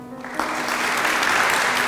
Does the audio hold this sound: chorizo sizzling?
no